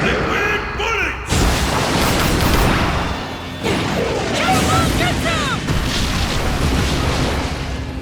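Liquid Bullets jutsu attack in Naruto Ultimate Ninja Storm, a rapid series of loud booming impacts and crashing blasts with splashy bursts, layered over game effects and voices.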